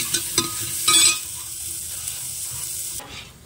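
Steady sizzling from chopped onions frying in a hot pan until browned, with a few louder clatters of stirring near the start; no voices.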